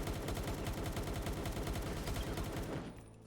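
A Palworld submachine gun fires a long, fast automatic burst of steady, evenly spaced shots, loud and close, then cuts off into quiet near the end.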